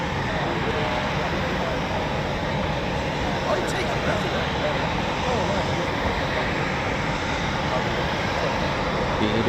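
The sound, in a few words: Typhoon jet engines spooling up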